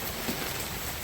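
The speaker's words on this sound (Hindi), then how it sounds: "आज बारिश बहुत तेज़ हो रही है" Heavy rain falls in a brief, loud, dense hiss with no distinct drops or other sounds.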